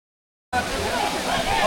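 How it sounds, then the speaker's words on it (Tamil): Bala Falls waterfall in Andhra Pradesh, a steady broadband rush of falling water that starts abruptly after a brief silence and holds loud and constant with no break. "This is called Bala falls."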